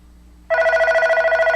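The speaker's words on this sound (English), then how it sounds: "So you can see the phone's ringing" An Ubuntu phone rings for an incoming Skype call, a loud, close electronic trill that starts abruptly after a quiet moment and pulses rapidly and evenly.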